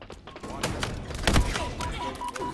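Rapid gunfire bursts from a Halo Infinite zombies mode match, sharp repeated shots and thuds crackling over game sounds, with a voice speaking faintly underneath.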